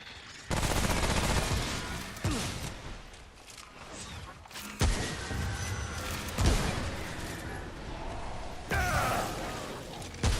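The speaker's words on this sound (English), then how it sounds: "I was really happy when Pablito showed me how to grab this SMG, because damn, dude, it slaughters pretty well" An SMG fires in a video game in dense bursts of rapid automatic gunfire, loud and close. Brief gaps split the volleys, and the shooting runs nearly the whole time.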